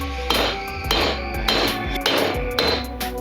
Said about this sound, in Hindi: हमारे पास ये जो लोहे की सीट है इसके ऊपर रख करके हम सिंपली इसको इस तरह से ठोक लेंगे।